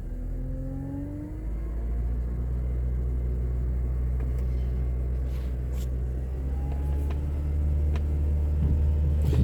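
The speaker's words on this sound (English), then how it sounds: "I'm gonna rev the gas up." A 2010 Honda Accord engine, recently fitted with a replacement catalytic converter, held at a steady raised rev with a constant low rumble and whir, close and continuous, with no talking.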